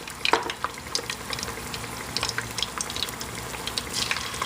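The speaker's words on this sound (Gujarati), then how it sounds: "ને હવે આપણે ટમેટો પેસ્ટ નાખ્યા છે અંદર" Tomato paste fries in a pan with a soft, continuous sizzle, dotted with irregular crackles and pops. It stays fairly quiet and close, with no talking.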